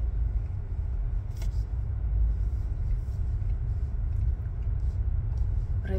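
A car drives along a city road toward the downtown area, its low engine rumble and tyre noise steady and close throughout, with no talk.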